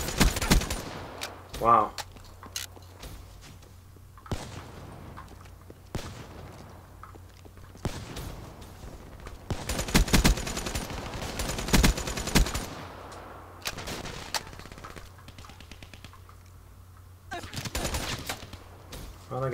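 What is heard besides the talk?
gunfire in video game Black Ops 3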